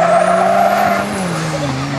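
A buggy and a Honda drag racing at the Gunnedah drags, their engines roaring loudly and close, with a high whine that drops in pitch as they sweep past.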